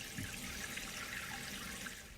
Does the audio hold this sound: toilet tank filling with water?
yes